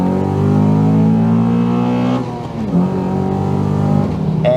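A modified Honda Accord Euro engine revs hard, its pitch climbing steadily through the rev range before a quick drop and a second rising surge, loud and close with no talking.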